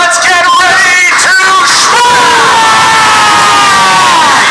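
Loud live crowd at a Schmoedown trivia competition event, cheering, whooping and yelling continuously throughout, with a few shouted voices standing out above the roar.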